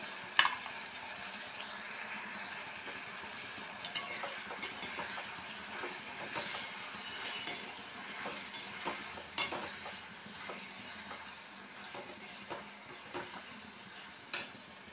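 Tomatoes with coriander, Kashmiri chili and salt sautéing in a pan, a quiet sizzle under repeated light clicks and taps of a spoon stirring against the pan.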